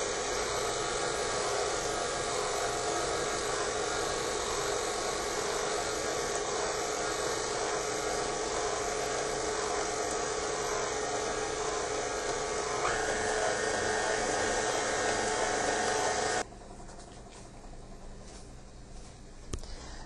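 Electric stand mixer whipping Italian buttercream for a dog agility cake, a loud steady whirring drone that runs nearly throughout, then drops to a quieter hum near the end.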